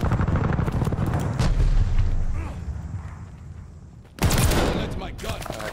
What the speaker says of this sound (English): Friendly sending an airstrike.